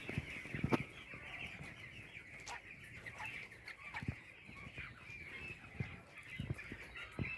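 Soft clucking and murmuring of brooder chicks with pneumonia, some wheezing, with occasional sharper calls, over a steady hissing background hum.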